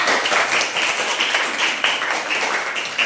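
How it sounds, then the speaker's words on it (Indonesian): Classroom clapping as a group of students applaud together, a steady dense patter of many hands filling the room with no talk over it. "tepuk tangan semuanya"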